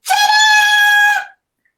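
A human voice imitates the shrill scream of a little monkey in a told children's story: one loud, sustained, high-pitched shriek lasting about a second before cutting off into silence.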